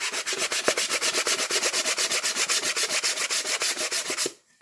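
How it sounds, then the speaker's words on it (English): A model airplane wing being sanded at the dihedral joint, with a steady run of quick, even rasping strokes close up and loud, ending abruptly in silence. "Sand just enough"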